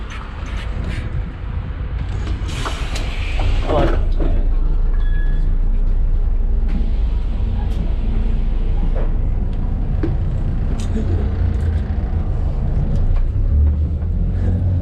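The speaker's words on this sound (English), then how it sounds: "Alright, made it onto the bus." Ride on a city bus in Sydney, with a loud steady engine and road rumble throughout, a few brief clanks and squeaks, and no clear voices.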